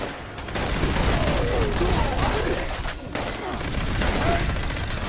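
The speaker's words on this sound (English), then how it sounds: "They're shooting me." Rapid bursts of video-game gunfire in Fallout 76, continuous and fairly loud with brief lulls, mixed with a voice speaking over the action.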